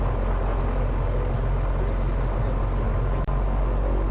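A small airplane's engine roars loud and constant during takeoff from a mountain valley runway, heard from the nose, a steady droning rumble with a brief click near the end and no voices.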